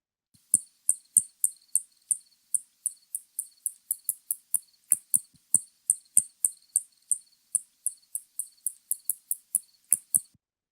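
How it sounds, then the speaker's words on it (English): Recorded echolocation call of a spotted bat, a rapid run of sharp high clicks repeating steadily, several per second, with a few faint low thumps in between and no voices. "that was another really classic spotted bat."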